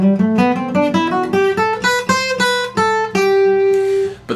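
A guitar in EADGCF tuning plays an ascending scale note by note, clean and close, ending on a sustained ringing high note.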